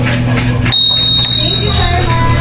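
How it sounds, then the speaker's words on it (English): A small bell is rung once at a restaurant, a clear bright ding that lingers briefly over low background hum while a person talks nearby. "if we did well, please ring the bell"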